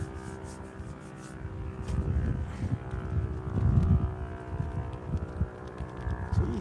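A motorcycle engine passes on the seafront at Gynn wall, Blackpool, a loud low rumble that swells to a peak midway and then eases, with steady wind noise throughout.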